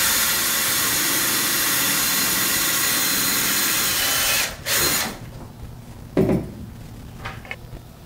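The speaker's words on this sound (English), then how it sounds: "I'm just gonna drill a hole here, and then I'm gonna stick my wires through" A power drill boring a hole through a teardrop trailer's ceiling, whirring loudly and steadily before stopping abruptly, followed by a short rev and quieter handling sounds.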